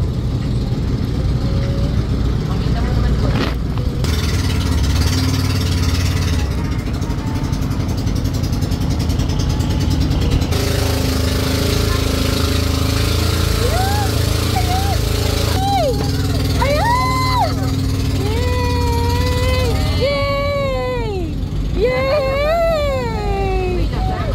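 Motorboat engines drone steadily throughout, loud and close, on a dolphin-watching trip off Balicasag Island, Bohol, while people talk and exclaim over it, with rising excited voices near the end.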